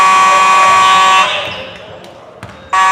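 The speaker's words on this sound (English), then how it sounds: "And folks, that is the fire alarm." A fire alarm blares loudly in a school gym during a boys varsity basketball game, a sustained harsh tone that cuts off and then starts again, with crowd noise and voices beneath.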